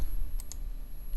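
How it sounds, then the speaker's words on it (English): Two quick, faint computer mouse clicks sound close together over a quiet room hum while someone works in a drawing program. "I'm going to click and drag little teeny tiny circle"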